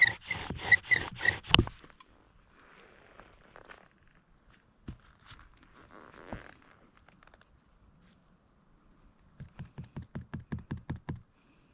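A wooden spindle rubbing on a wooden fire board in a friction fire attempt, heard as bursts of rapid rhythmic scraping strokes at the start and end with quiet pauses between.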